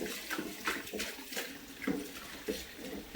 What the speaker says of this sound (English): So I'm gonna rinse this off real quick.